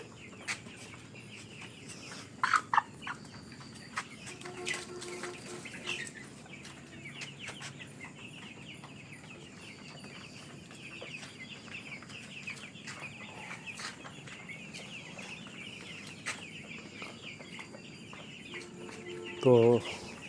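Caged poultry on a chicken farm cluck softly in the background, with a few louder squawks near the start and end, under faint voices.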